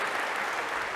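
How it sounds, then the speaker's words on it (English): A brief, steady wash of applause from a university lecture audience in a computer science class, even and continuous for about a second. "a big round of applause."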